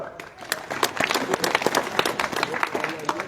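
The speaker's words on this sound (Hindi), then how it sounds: "एक बार जोरदार ताली" Applause from a village gathering, made up of close, uneven individual claps that pick up into a lively burst, with crowd murmur and some voices mixed in.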